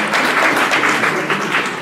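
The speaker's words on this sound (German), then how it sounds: "Einen großen Applaus für Tivoli." Audience applause fills the whole stretch as a dense, steady wash of clapping at an evening stage event, close and loud with no talk over it.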